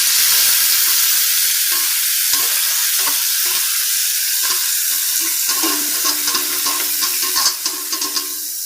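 Washed beef sizzles loudly and steadily in hot coconut oil, close up, while a spoon stirs and scrapes the pan with intermittent clicks and no talking.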